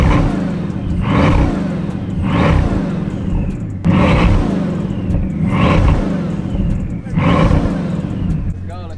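Bugatti Chiron Super Sport, a 1600 hp car, roaring through repeated loud revs, each swell rising and falling in a steady rhythm about every one to two seconds, close by and dominant.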